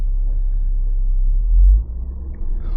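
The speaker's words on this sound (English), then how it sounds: "I'm like full throttle well, half throttle right now. The car like will barely move." A Jaguar F-Type creeps along at half throttle in its slowest valet mode, giving a steady low engine rumble close by with a brief swell in the middle before settling back.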